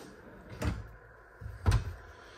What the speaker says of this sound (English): Little pull-out drawer.